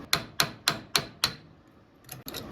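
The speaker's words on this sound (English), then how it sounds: "I'm going to try to pound a wrench in there." Wrench hammered onto a tie rod nut under a Ford 8N, 600 or 800 series tractor: five loud, sharp metallic strikes in a steady rhythm, then a short pause and two fainter knocks.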